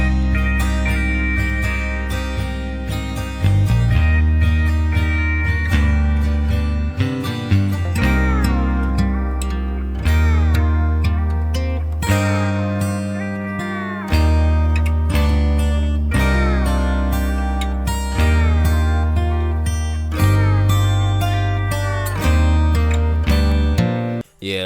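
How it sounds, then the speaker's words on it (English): A country rap beat built on a sampled steel guitar loop, twangy sliding melodic phrases over deep sustained bass, playing loud and alone throughout. "For this one, I went for a steel guitar at an arcade."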